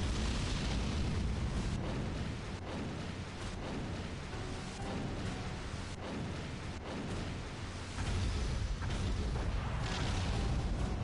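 Rumbling, booming explosions fill the scene as a generator is destroyed in the Godzilla game on PlayStation 4, a dense, continuous roar with repeated heavy bursts and no voices.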